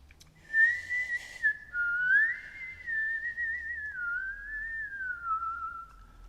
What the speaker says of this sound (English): Something was whistling in the hole.